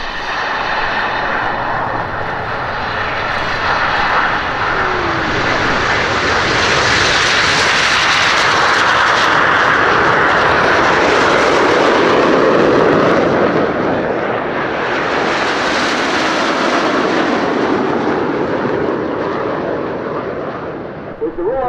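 Red Arrows jets of the Royal Air Force Aerobatic Team take off at an airshow, a loud sustained engine roar that swells and sweeps past, then a second surge as more aircraft follow.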